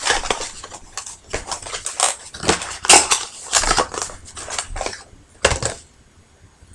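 A Bath and Body Works candle package is torn and unwrapped, with repeated crinkly rustling and crunching bursts up close, loudest near the middle and trailing off at the end.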